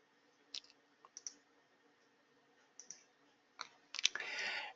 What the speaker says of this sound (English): I'm just going to click and save that change